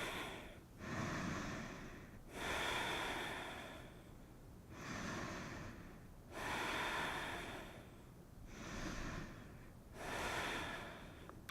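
Slow yoga breaths are held in camel pose: five or six long, airy breaths alternating in a steady rhythm, each swelling and fading, close and alone with no talking.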